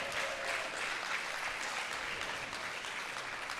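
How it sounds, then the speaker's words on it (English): Steady applause from a crowd at a pickleball event, a continuous wash of clapping heard at moderate distance and fairly low level, with no speech over it. "Give these guys a round of applause"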